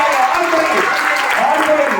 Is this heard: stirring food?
no